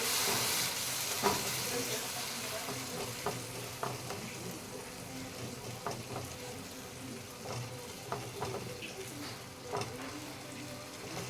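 Tomato paste fries in a pan while being stirred, a steady soft sizzle with scattered scraping clicks from the spoon, fairly faint and close, with no speech over it.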